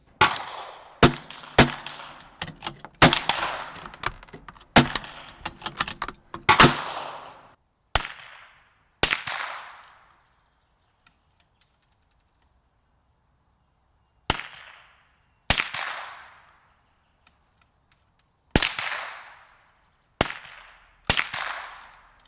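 Fifteen rounds of .22 LR Speed ammunition fired at a target: sharp, ringing cracks, first in a quick irregular string, then a long pause, followed by spaced single shots, each with a short decaying echo.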